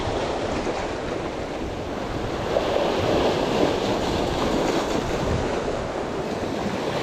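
Sea swells surging and breaking on Cornish shore rocks, a constant, close roar of churning water and surf with wind buffeting the microphone throughout.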